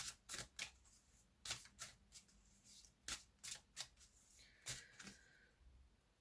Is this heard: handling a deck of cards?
yes